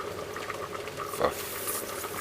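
Rice and peas boiling in a pot on the stove, a close, steady bubbling and gurgling that holds evenly for a couple of seconds with no voices.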